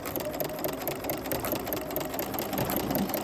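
A Bernina sewing machine with a gathering or ruffler foot runs continuously up close, a fast, even mechanical whirr and needle patter throughout.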